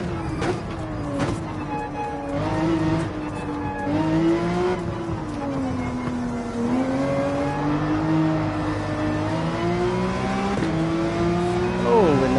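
A race car engine in Gran Turismo 7 drones steadily with rising and falling revs through gear changes. Occasional tire squeal cuts through, and someone talks over it throughout.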